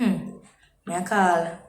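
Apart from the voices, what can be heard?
None of the usual background noises is heard.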